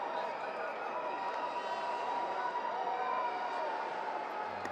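A big crowd fills a cricket stadium at a championship final, a constant distant wash of murmuring voices and noise with no sharp peaks, holding evenly throughout.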